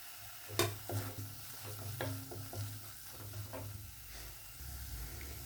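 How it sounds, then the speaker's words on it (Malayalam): Curry leaves sizzling and crackling in hot oil in a pan while cooking Kerala-style pearl spot fish, with soft stirring and scraping clatter over a steady low hiss. "കുറച്ച് കറിവേപ്പില ഇട്ട് കൊടുക്കാം."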